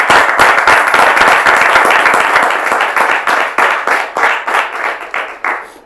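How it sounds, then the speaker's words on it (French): Close, loud clapping from a studio audience on a French talk show, sharp distinct claps that start dense and gradually thin into a slower, sparser rhythm before stopping. "Alors Justin, bien sûr, on va l'applaudir."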